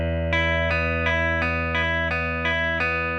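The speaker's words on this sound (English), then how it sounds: "The first time you play this, your bass note is an E and it sounds like this." Guitar chord pattern over an E bass note from a song, strummed in an even rhythm of about eight sharp, bright chord hits with ringing sustain, heard close and clear with no talking.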